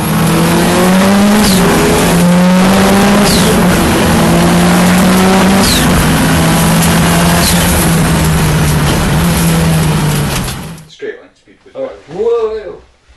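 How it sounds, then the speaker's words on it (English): Big Australian V8 race car roaring past at Knockhill circuit, a loud sustained engine drone with shifting pitch and tire noise for about ten seconds, then abruptly cutting to quieter sounds with a voice speaking. "a big giant Australian car just went right past us"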